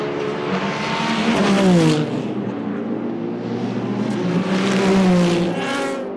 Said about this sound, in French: Les hypercars avalent la ligne droite des Hunaudières à plus de 330 km/h